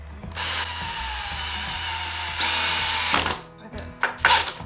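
A power drill drives a very long screw into a pre-drilled hole in a wooden bench during a furniture makeover. It gives a loud, steady whine for about three seconds, rising in pitch near the end, followed by a few short, sharp bursts.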